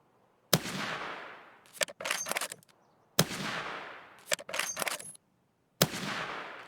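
Gunfire in Escape From Tarkov: three bursts of rapid shots, each opening with a sharp crack that decays into a rolling echo, followed by shorter volleys, loud and close with brief silences between.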